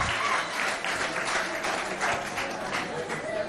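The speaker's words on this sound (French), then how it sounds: "On l'applaudit bien fort." Students and audience applaud a student poet at a Chadian school event, with sustained, fairly close clapping throughout and voices mixed in.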